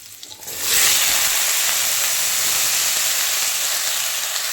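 Papaya pieces hit hot oil tempered with a few fenugreek seeds, setting off a sudden loud hiss that settles into a steady, continuous sizzle close by.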